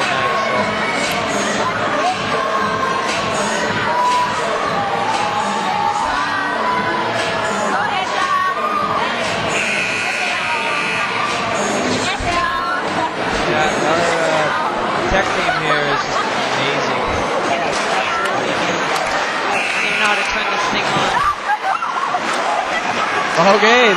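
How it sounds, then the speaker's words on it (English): Basketball crowd at a high school game between Thunder Bay and Bedford Road, Bedford fans on their feet stomping and cheering, a loud continuous roar of massed voices and chatter filling the gym throughout. "Bedford fans on their feet, stomping and cheering"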